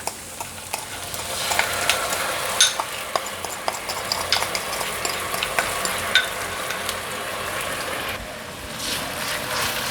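Browned enoki mushrooms stirred with sauce and hot oil in a hot pan, a steady sizzle and fry under repeated scraping and clinking of a utensil against the pan, close and continuous.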